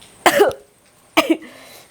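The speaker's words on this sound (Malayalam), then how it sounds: "ഇപ്പോഴാണ് ചുമ ചുമക്കുന്നത് കൂടുതലായിട്ട്" Two sharp, close coughs, separated by a short pause.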